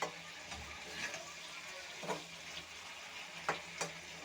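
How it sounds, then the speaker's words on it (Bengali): Vegetables fry quietly in a pan, a soft continuous sizzle broken by a few sharp clinks and scrapes of stirring. "সবজিটা একটু ভেজে নেব।"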